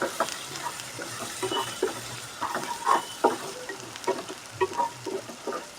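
Beaten egg and grated carrot sizzling in a hot pan as the mixture is stirred and turned, a steady frying hiss broken by scraping spatula strokes, close and with no talk.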